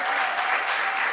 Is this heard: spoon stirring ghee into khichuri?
no